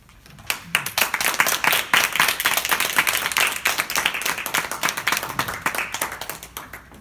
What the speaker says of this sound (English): Have to applaud her.